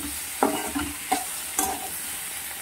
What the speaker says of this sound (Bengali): এটা ভালো করে ভাজতে হবে, আরও মিনিট দিয়ে ভালো করে ভেজে নিতে হবে